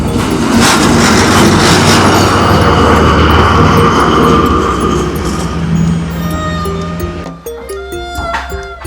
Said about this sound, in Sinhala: ඔන්න ට්‍රේන් එකක් යනවා